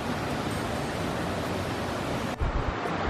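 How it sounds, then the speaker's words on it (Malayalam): Water spills over rocks at the top of Adyanpara waterfall in Nilambur, a dense, continuous roar of rushing flow, close and loud, with a brief bump near the end. "അതിനിടയിലൂടെ ചെറിയ രീതിയിൽ വെള്ളം ഒഴുകുന്നുണ്ട്"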